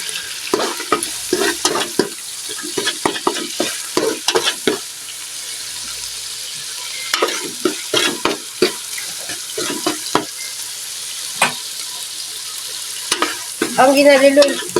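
A spoon scrapes and knocks through spaghetti sauce in a frying pan, giving irregular close clatters and stirring strokes over a faint sizzle, with a short pause midway; no talking.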